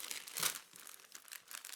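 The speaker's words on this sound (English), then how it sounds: "let's go ahead and open up the packet by pulling apart the sticky" A plastic packet holding a Paul Smith cashmere scarf is pulled open at its sticky flap, making faint, close crinkles and a brief tearing rustle.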